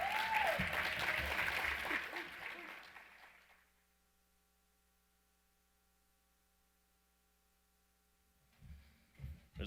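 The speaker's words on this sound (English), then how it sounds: "So please give a round of applause as he's coming up on stage right now." Business conference audience applauding as a speaker comes on stage at an expo, a dense wave of clapping that fades out within about four seconds into near silence with a low hum, then a voice returns at the end.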